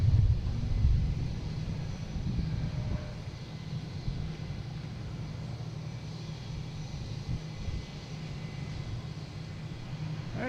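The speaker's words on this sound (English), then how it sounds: "Coming in is a Delta flight 5725 from LaGuardia in E175." Delta Embraer E175 jet on final approach to runway 4 left at Boston Logan, a steady broadband engine roar, fairly distant and even throughout, mixed with light wind rumble.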